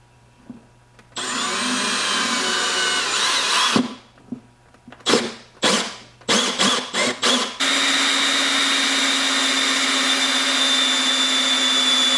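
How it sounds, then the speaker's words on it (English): A power drill bores a hole through a mobile detail cart, with a long steady whine, a run of short stop-and-start bursts, then another sustained run, close and without talk. "Now that we have that hole drilled out"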